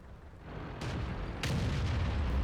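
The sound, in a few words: tank cannon firing in video game World of Tanks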